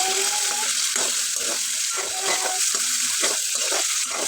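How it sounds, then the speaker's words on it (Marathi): Paneer fries lightly in oil with a constant bright sizzle, and a utensil stirs through it in a steady rhythm up close. "तुम्ही थोडंसं फ्राय करून घ्यायचं आहे जास्त नाही फ्राय करून घ्यायचं"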